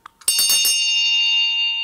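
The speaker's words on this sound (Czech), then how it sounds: "Zazvonil zvonec" A bell rings once, starting with a bright, loud strike and then sustaining a clear shimmering tone that fades only slightly over nearly two seconds, after a faint tap just before.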